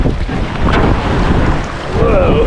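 Strong wind buffets the microphone on open ocean water during a wilderness canoe trip in the Tobeatic Wilderness Area, Nova Scotia, a loud continuous roar with waves beneath and brief faint voices.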